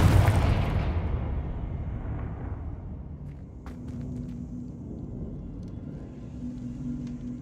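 A Confringo fire-blast spell in Hogwarts Legacy, a heavy booming burst at the start that rolls off into a long fading rumble, followed by a low hum with a few faint ticks, no talking.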